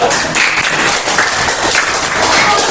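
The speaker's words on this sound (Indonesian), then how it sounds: "tepuk tangan untuk kelompok 2" A classroom applauds group 2 after a lamp-circuit demonstration, loud dense clapping from many students filling the room steadily throughout.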